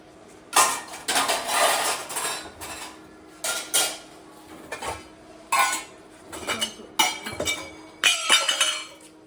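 Dishes and utensils clink and clatter in irregular bursts, metal and glass knocking together up close, with short pauses between handfuls.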